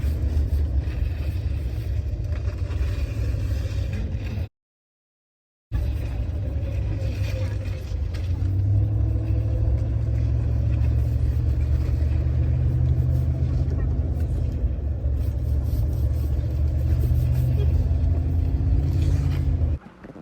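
A car engine rumbles steadily while towing a skier through a snowy blizzard, loud and close throughout, with a brief dropout early on and voices talking over it.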